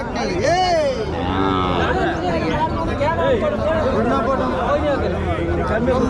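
Cattle, cows and heifers, at the big weekly livestock market in Matrapalli, Tirupattur district, low drawn-out moos repeating close by over a constant babble of people talking.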